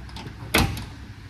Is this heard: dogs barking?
no